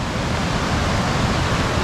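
Whitewater rushes down a river near Lake Manapori, New Zealand, a dense and steady close-up roar with no break and no voices.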